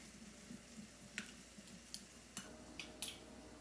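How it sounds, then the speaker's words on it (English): Turkish spiced beef being stirred and mixed in a pan, a soft steady sizzle with a few sharp utensil scrapes and clicks against the pan, close and quiet with no talking. "Give this another quick stir and mix."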